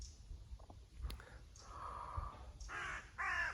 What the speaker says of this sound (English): love crows